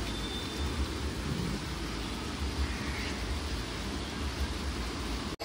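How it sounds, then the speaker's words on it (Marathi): Steady heavy rain pours outside in a dense, unbroken hiss with a low rumble underneath, holding an even level throughout with no voices. "बाहेर बघा किती पाऊस पडतो आहे"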